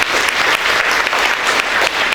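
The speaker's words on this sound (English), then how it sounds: "Can we have a huge round of applause for sir" Loud, close applause from an audience at a school recognition ceremony, a dense continuous wash of clapping with slight surges throughout.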